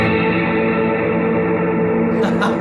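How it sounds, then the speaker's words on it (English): An electric guitar played through a small HandleBox reverb pedal on its lush setting rings out in a dense, sustained wash of reverb, loud and continuous, with a fresh strum near the end. "That's a lot of reverb for a little pedal."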